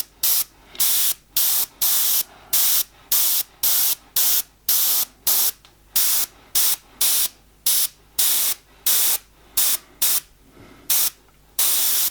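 An airbrush sprays a soft mist of paint while painting an owl, in about twenty short, even hissing bursts separated by brief silences, close and fairly loud with no talking.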